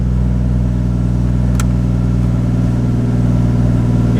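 Toyota MK3 Supra engine running through a new exhaust with silencers fitted, a loud, close, steady droning idle with a deep rumbling pulse and one brief sharp click partway through.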